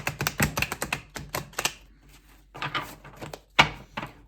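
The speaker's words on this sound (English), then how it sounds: "While I'm shuffling the deck and getting your cards ready" Quick rapid riffling and flicking of a tarot deck, several bursts of shuffling with brief pauses, close and crisp with a sharp tap near the end.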